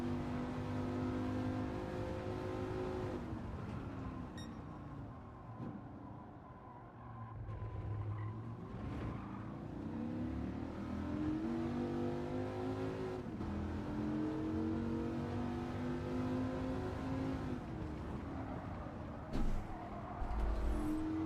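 A race car in Gran Turismo 7 revs hard in a time trial, its engine note climbing and falling through repeated gear changes with brief tire squeal, loud and continuous throughout.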